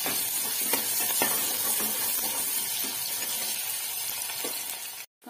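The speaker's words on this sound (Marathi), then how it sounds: "आता याच्यामध्ये मी कांदा टाकून घेते, कांदा छान भाजत आहे आपला" Chopped onion sizzles in hot oil in a cooking pot, a steady, dense hiss with faint crackles and light utensil taps, holding level before cutting off abruptly near the end.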